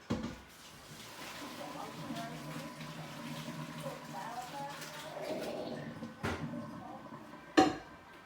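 Cooked lasagna noodles are drained in a kitchen, with a soft, steady wash of pouring water and a few clanks of a metal pot and utensils, under quiet talk.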